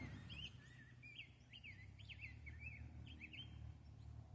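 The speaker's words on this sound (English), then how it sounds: "birds are chirping." Small birds chirp at a campsite, repeated bright tweets and short whistled calls scattered over several seconds, fairly faint above a low background hum, with no talking.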